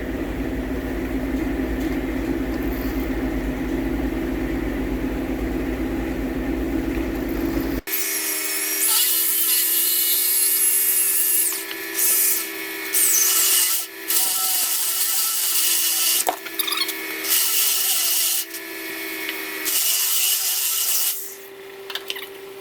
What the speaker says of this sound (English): we're just going to use a regular drill